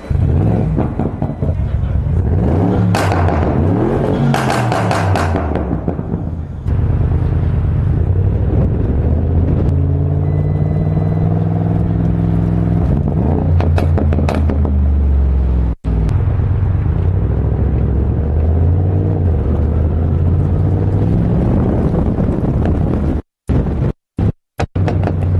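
Modified Audi RS6 tuned to 705 hp, revved while stationary: loud, deep exhaust blips and sustained roaring revs that rise and fall repeatedly, with sharp cutoffs near the end.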